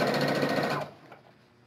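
Stitching through lining, padding and main fabric of a wine holder, a sewing machine whirs in a short rapid burst for under a second before stopping into near quiet.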